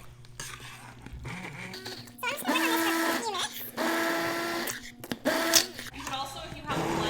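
An immersion blender purees butternut squash soup in a pot, its motor whirring in loud bursts that start and stop over several seconds, with a quieter stretch between runs.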